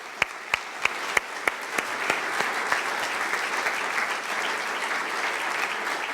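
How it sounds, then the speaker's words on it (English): A crowd at an evening award lecture breaks into applause, starting with a few sharp individual claps in slow succession that swell into steady, even clapping filling the room as a guest speaker walks to the stage. "I'd like everyone to give Justin a round of applause as he comes up to the stage"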